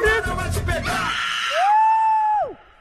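A sustained high whooping yell rises and holds steady for about a second before dropping off, following a burst of mixed voices during a Brazilian dance fitness routine.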